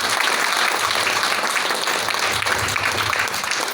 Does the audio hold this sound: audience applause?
yes